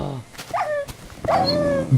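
A couple of short dog barks and yips from Minecraft tamed wolves, fairly close, with a harmonic whine between them.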